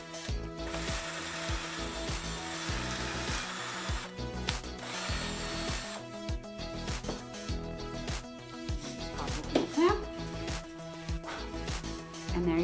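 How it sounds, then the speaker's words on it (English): A pocket hole jig and drill bore pocket holes into wood, giving a series of ratcheting, whirring bursts with short pauses between them, close and moderately loud, with clicks and handling clatter throughout. "So let's make some pocket holes."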